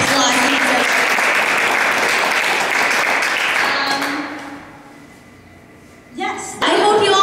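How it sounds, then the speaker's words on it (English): A loud, dense audience applause fills a Christmas charity cabaret concert for about five seconds, then thins and fades, before a voice starts talking near the end. "Give yourself a round of applause."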